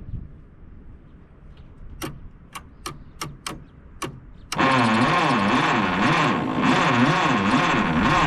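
A 1957 Case 310 Terratrac loader's engine is cranked: a few sharp ticks and clicks come first, then the starter catches into a loud, continuous, rhythmic cranking churn that lasts several seconds.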